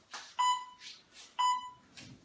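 A workout timer sounds two sharp electronic beeps about a second apart, clear and alone over faint background breathing or movement.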